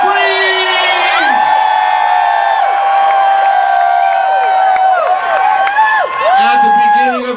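A rally crowd at a Seattle health care reform event screams, whoops and cheers in one loud, sustained roar, with high shrill yells rising and falling over the din throughout.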